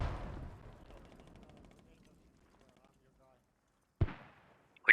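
Mortar fire in a wartime shooter video game: a heavy booming blast decays at the start, then another sharp impact lands about four seconds in, with a further hit at the very end; a voice is faintly present.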